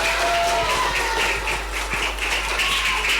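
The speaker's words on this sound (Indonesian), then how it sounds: "Tepuk tangan buat Khaira." A school crowd at an Isra Miraj event claps steadily for a student, a dense, loud round of applause with some voices mixed in.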